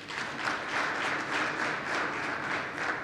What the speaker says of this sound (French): Des acclamations bien nourries pour saluer les nombreuses réalisations de l'équipe rectorale de l'université de Parakou